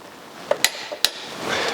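A torque wrench tightens clutch bolts on an IH 674 tractor, giving a few sharp, close metallic clicks within a second over quiet background noise.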